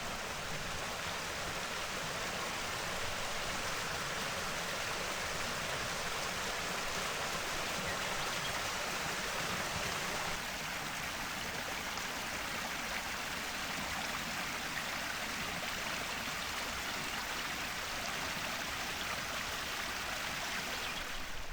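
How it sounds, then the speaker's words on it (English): Water pours and splashes steadily in a dense, continuous rush, like a waterfall spilling into a pool, with no voices present. "There's a good view of the waterfall now."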